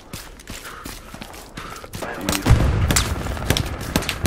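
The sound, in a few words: gunfire in the video game Hell Let Loose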